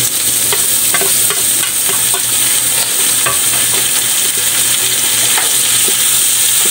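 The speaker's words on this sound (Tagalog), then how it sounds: "Gigisahin natin ito hanggang maluto." Pork sizzles loudly in a pan as it is sautéed for laing, with repeated scraping and clacking of a spatula stirring the meat over a constant frying hiss.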